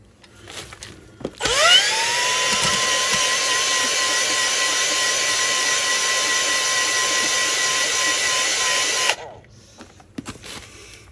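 A power drill spins a cylinder hone with fine stones inside a large engine cylinder bore, giving one sustained, loud whining grind that starts abruptly and cuts off after about seven and a half seconds.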